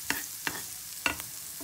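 Garlic frying in a pan gives a soft, low sizzle broken by three or four quick crackling spits, close but quiet over a short moment.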